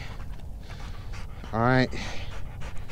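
A German Shorthaired Pointer pants hard and close after retrieving a bird on a quail hunt, quick rhythmic breaths joined by a short whiny vocal burst midway while someone speaks.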